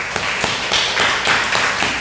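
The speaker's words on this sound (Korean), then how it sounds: "하나님께 감사의 박수 드리겠습니다." A church congregation claps in thanks during a Sunday worship service, a dense, steady wash of many hands with sharper bursts rising every half second or so, close and loud with no talk over it.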